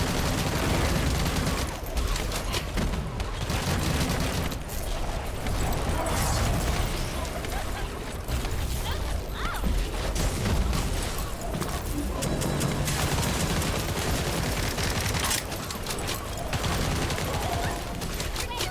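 Rapid gunfire from a gun in the looter shooter The First Descendant rattles almost nonstop, loud and close within a busy game mix, with a voice talking over it.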